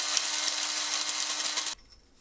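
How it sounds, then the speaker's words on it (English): A small electric coffee grinder, used only for spices, whirs loudly as it grinds whole spices, a steady high buzzing run that stops abruptly after nearly two seconds. "I'm going to grind all of the whole spices in a coffee grinder."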